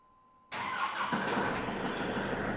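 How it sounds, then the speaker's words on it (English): After a faint hum, a snow tractor engine with a snow blower suddenly cranks and catches, settling into a loud, steady running rumble nearby. "show you how to turn on the tractor"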